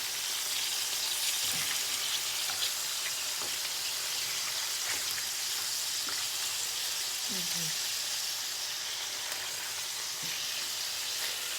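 Meat rolls fry in garlic-flavored oil in a pan, giving a steady, dense sizzle that runs throughout, with occasional utensil taps and brief quiet voice sounds underneath.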